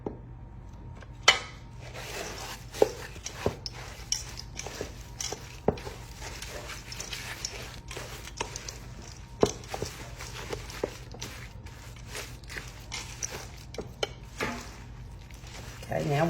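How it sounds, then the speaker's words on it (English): Ingredients with sour cream and Parmesan cheese are stirred in a bowl, heard as a steady run of soft scraping and clicking taps against its sides, quiet and close throughout. "We're going to mix this all together"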